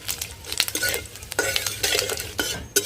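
Panch phoron and dried chillies fry in hot oil in a pan, with close, busy clinks and scrapes of a stirring utensil over a soft sizzle.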